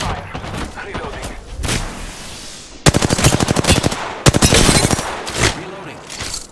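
Automatic weapon fire in the video game Apex Legends, loud rapid bursts of shots with short gaps between volleys, with voices speaking in between.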